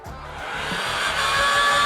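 A heat gun blowing steadily as it comes up to temperature for countertop epoxy work, a constant airy whir with a faint tonal hum, gradually getting slightly louder.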